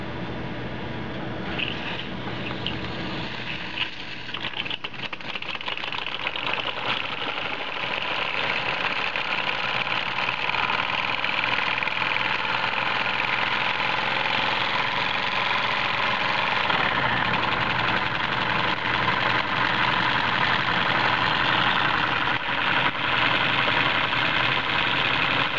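A Mk-I Steamworks J70D model steam engine runs steadily on its first steaming, giving a continuous loud hissing, chuffing drone with fine rapid pulsing and a slightly leaking safety valve, close and with no voices.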